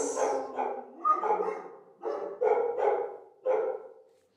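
A dog barks repeatedly in uneven bursts, several sharp barks close together with short pauses, moderately near and fairly loud.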